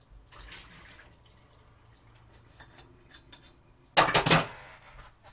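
Instant ramen noodles go into a pot of water. Faint clinks and trickling come first, then a sudden loud burst of clattering and splashing near the end.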